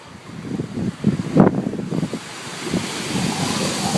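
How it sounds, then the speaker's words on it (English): Ocean waves rumble and crash nearby in a continuous roar, mixed with gusty wind buffeting the microphone. "Those waves are insane."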